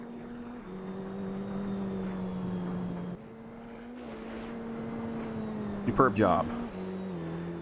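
A race car in Gran Turismo 3 on PS2 drones along with a rising and falling engine note and gear shifts, tyres tearing up gravel. A brief clattering burst comes near the end, and someone speaks briefly over it.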